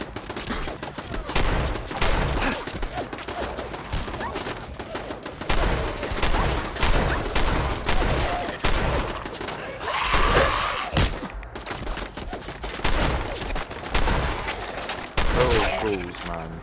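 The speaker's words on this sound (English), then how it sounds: "Seriously, stop shooting me." Rapid bursts of gunfire from enemies shooting at the player in Fallout 4, dense and continuous with heavy thumps and crashes throughout, a voice talking over parts of the barrage.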